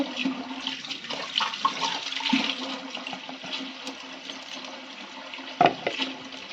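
Water running and splashing steadily as vegetables are washed, with occasional sloshes and a brief clatter near the end; no talking.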